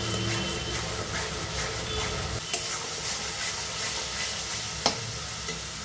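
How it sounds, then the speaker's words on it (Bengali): Onion with ginger-garlic paste sautéing in a pan for mutton pulao, a steady close sizzle with scraping stirs and a couple of sharp utensil clinks, no voices. "পেঁয়াজ আদা রসুন বাটা দিয়ে 5 মিনিটের মতন কষিয়ে নেব"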